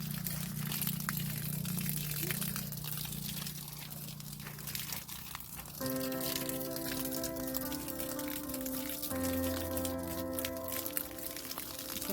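Water pours steadily onto grapevine plants in a vineyard row beside a tractor, a continuous wash of flow under a droning motor hum that shifts pitch partway through.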